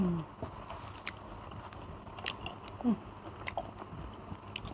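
Someone close up chews spicy raw shrimp with soft, wet, irregular bites and squishy crunches, fairly faint, with no talking over it.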